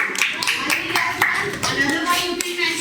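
Students clap in a geometry classroom, a burst of quick, sharp, overlapping handclaps close by for a few seconds, with children's voices mixed in.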